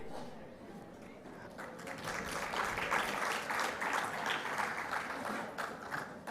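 Audience applause at a World Environment Day celebration, a steady wash of many hands clapping that swells after a couple of seconds and holds at moderate volume throughout.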